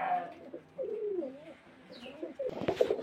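Young Kalshira pigeons at a pigeon sale coo in soft, low, wavering calls spread over a few seconds, with a brief flurry of brighter chirps and rustling near the end.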